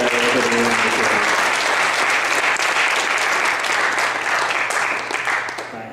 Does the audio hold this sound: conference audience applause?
yes